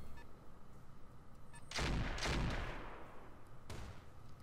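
Mech weapons firing in the Roguetech BattleTech video game: a couple of heavy booming blasts with rumbling tails after a quieter stretch, then a sharper shot near the end, all fairly faint and without talk.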